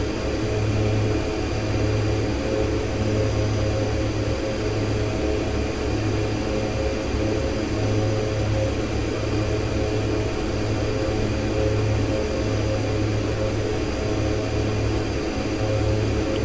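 A de Havilland Twin Otter propeller airplane in the X-Plane 11 flight simulator drones steadily in flight, a constant loud hum with a slowly pulsing low throb and no voices.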